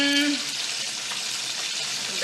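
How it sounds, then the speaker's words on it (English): Chicken wings fry in hot oil for a fried chicken dish, giving a steady, broad crackling sizzle that runs throughout at close range, with no talking over it. "Still got those wings frying."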